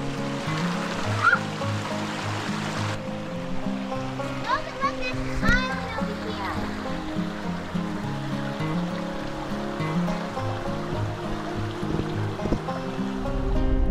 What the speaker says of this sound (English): I hear a creek.